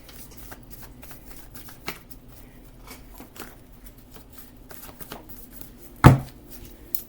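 Tarot cards being shuffled, with faint soft riffling and handling throughout and one sharp, louder burst of cards snapping together near the end, close by and without speech.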